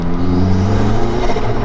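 An old car without power steering drives with a steady, loud engine drone and whirring tone held throughout, close up from inside the cabin.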